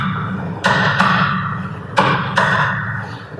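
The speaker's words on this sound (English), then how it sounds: "listen to the rhythm and the sound of the hammer" A hammer knocks on a chisel while a mortise lock recess is cut into a door. Four sharp, fairly close knocks come in two pairs of even strength, with a low murmur underneath.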